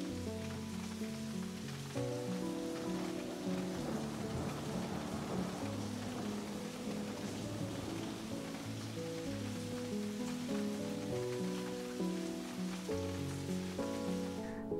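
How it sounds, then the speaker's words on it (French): Steady rain falls outside a window, with a dense, even patter and low rumbling thunder rolling beneath it, continuous and moderately soft, with no voices. "je me suis mise devant ma fenêtre et j'ai écouté la pluie et l'orage."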